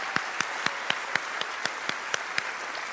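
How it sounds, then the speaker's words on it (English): Applause at a school graduation ceremony, with a few distinct, evenly spaced claps standing out over a steady background wash of crowd clapping, moderately loud throughout. "let's give one more round of applause for those amazing speeches"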